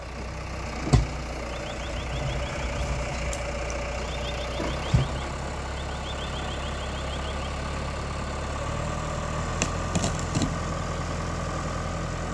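Tractor engine idles with a steady low rumble while towing logs off a fence, with a few clanks and faint beeping over the drone.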